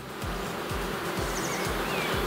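Honeybees buzz steadily over an opened beehive with honey supers, a dense continuous drone under a recurring low thump, no talk.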